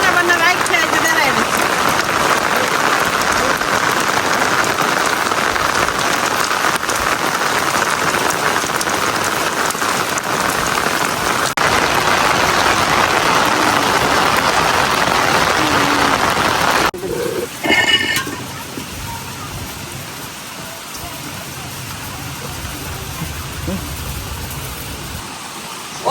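Heavy rain pours steadily across an outdoor village cooking spot where fish wrapped in taro leaves is being made, a dense loud wash for most of the stretch before easing abruptly into a softer, quieter patter near the end.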